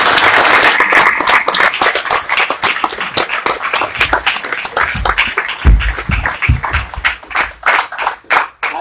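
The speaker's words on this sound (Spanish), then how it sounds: "Y aplausos." Applause fills a symposium hall as an audience claps loudly and continuously, the dense patter swelling and easing without a break.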